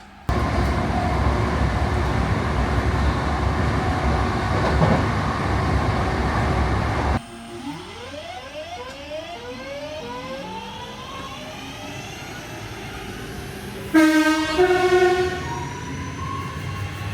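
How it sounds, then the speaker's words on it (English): A train on the Crewe to Stockport line pulls into a station. A loud rumbling approach gives way to squealing brakes and rising wheel tones, then a sharp horn-like pitched blast near the end. "we're going to catch the next train now and head to our next station up the line"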